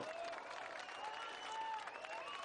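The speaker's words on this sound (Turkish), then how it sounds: "Seyircilerden alkış aldı Quaresma'nın bu hareketleri." A stadium crowd claps steadily through a pre-season friendly between Beşiktaş and Pinzgau Saalfelden, applauding Ricardo Quaresma's skills. The applause is spread out and a little distant, with a commentator's voice over it.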